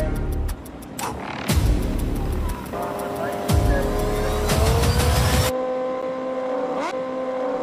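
A muscle car and a superbike race, engines roaring loudly with abrupt surges and gear changes, one engine note climbing steadily in pitch near the end; a voice may speak briefly under the engine noise.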